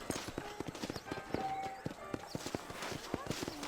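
A horse in the game Red Dead Redemption clip-clops along at a steady walk, its hooves knocking in an even rhythm under ongoing talk.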